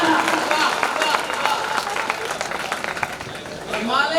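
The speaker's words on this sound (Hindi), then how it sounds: "भारत मां के सम्मान में तालियां बजाना" Applause from a crowd at a large poetry gathering during a Veer Tejaji Maharaj fair, a dense, steady wash of clapping with crowd noise running throughout.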